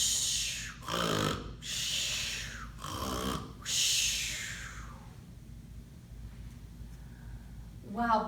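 A storyteller imitates a big brown bear snoring in its cave, with several long, loud, breathy snore sounds, then a quieter stretch and a short sound at the end.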